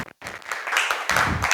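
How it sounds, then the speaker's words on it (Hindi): Schoolchildren applaud in a classroom, a dense patter of many small hands that starts after a short pause and builds into a steady round of clapping. "सारे बच्चे, ताली बजाओ"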